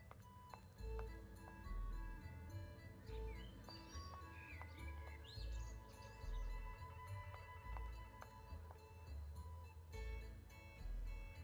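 Game birds chirp and tweet in Nancy Drew: The Phantom of Venice, bright short calls scattered over a steady low ambient hum and soft thudding music, continuing for the whole stretch without talk.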